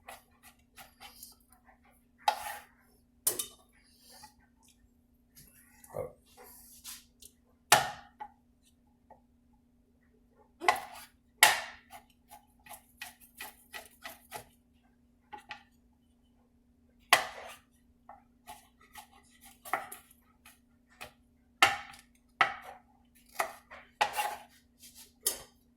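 A knife slices red onions on a cutting board in a quiet kitchen, producing sharp, close, irregular chopping knocks in short runs separated by pauses.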